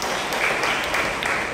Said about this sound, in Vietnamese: Một tràng pháo tay cho cô.